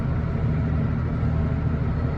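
Case 260 tractor, around 300 horsepower and boosted, with its engine running in a steady, loud low rumble that holds constant throughout, no talk over it.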